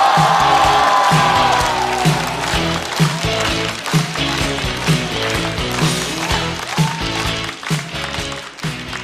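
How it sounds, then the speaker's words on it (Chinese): A studio audience at a stand-up comedy show applauds and cheers to welcome a performer onto the stage. The steady, loud crowd noise lasts throughout, over a rhythmic musical beat. "掌声欢迎"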